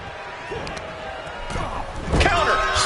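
A wrestler is slammed down in the WWE 2K25 video game, a heavy impact thud landing near the end amid game crowd noise and arena ambience, with commentary-style talk around it.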